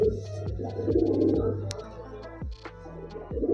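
Pigeons of a distinct small breed with stone-coloured eyes coo in repeated low, throaty rolls, several birds overlapping close by with brief pauses between bursts.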